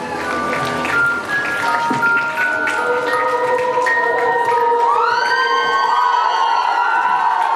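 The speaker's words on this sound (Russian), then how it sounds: "громкими аплодисментами, овациями" Crowd applause and cheering at an awards ceremony of a geek convention, a loud, dense, continuous wash of clapping and shouting with high whistle-like tones over it.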